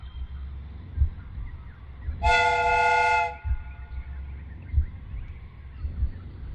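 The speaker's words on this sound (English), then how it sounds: "The steam whistle is ready to be used." A steam train whistle sounds in the video game Sherlock Holmes: Crimes & Punishments. It gives one loud, steady, harmonic blast of about a second over a low rumbling background.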